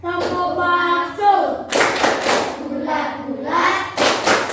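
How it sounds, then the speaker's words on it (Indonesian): Schoolchildren in a classroom perform the tepuk bakso clapping ice-breaker, short bursts of group claps and thumps alternating with chanted singing voices. "ice breaking tepuk bakso ya, supaya lebih ceria, lebih fresh dalam belajar. Ayo, 1, 2, 3. Tepuk bakso."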